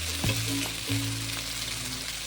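Onion and cumin paste masala frying in a pan for a rohu fish and potato curry, a steady close sizzle with two brief stirring scrapes.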